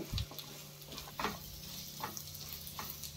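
Salt being stirred into a bitter gourd fry in a pan, with a soft, steady sizzle and a few scraping stirs of a spatula, faint and close.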